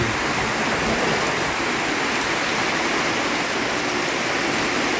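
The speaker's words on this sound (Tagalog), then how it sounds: "Grabe oh, ang lakas na naman." A steady, loud downpour of heavy rain, an unbroken wash of hiss that fills the whole moment.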